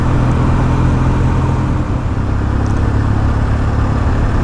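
A Kawasaki W650 motorcycle is being ridden through small towns, its engine note a steady, loud, continuous drone mixed with road and wind noise, close to the microphone with no breaks.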